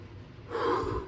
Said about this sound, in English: Just taking a deep breath.